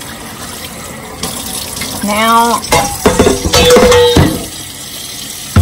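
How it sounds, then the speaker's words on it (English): Tap water running into a bowl where calf fries are set to soak, a close splashing gush with a voice briefly speaking over it. "I'm gonna put some water in here and let them soak."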